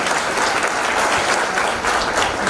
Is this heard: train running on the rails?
no